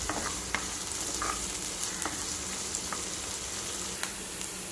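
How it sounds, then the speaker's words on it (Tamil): Onion, green chilli and curry leaves fry in hot oil for a potato and capsicum masala fry, a dense steady sizzle with scattered crackles and light stirring taps, close and unbroken by speech. "எண்ணெய் காஞ்சிருச்சு. இப்போ வெங்காயம் போட்டுக்கலாம். பச்சை மிளகாய், கருவேப்பிலை போட்டுக்கலாம்."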